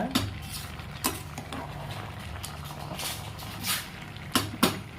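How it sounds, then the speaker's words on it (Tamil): A spoon scrapes and knocks against a pot while vegetable biryani with basmati rice is stirred, several sharp metallic clinks and taps over a low steady background, close, with no talk. "அப்பப்போ அடியில் விட்டு கிண்டி விடுங்க, அடி பிடிக்காமல் இருக்க."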